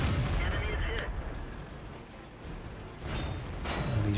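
In the World of Tanks video game, a KV-1S tank's 122mm gun fires with heavy booming blasts, one near the start and another after about three seconds, over a low rumbling battle ambience with a voice talking.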